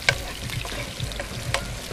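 Onions and garlic sauté in a pan, a low steady sizzle with intermittent stirring scrapes and a couple of brighter clinks.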